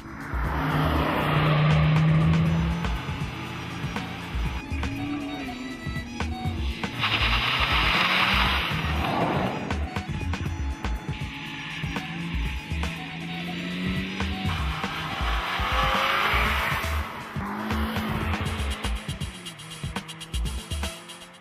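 Hot hatch cars are driven hard around the Bedford Autodrome circuit, with engines revving and swelling as they pass, repeated tyre squeals in the corners, and passes that rise and fade over about twenty seconds.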